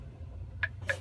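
Two short, sharp clicks from a tractor-trailer's safe-start system during a pre-trip inspection. They sound close, about a quarter second apart, over a low steady hum.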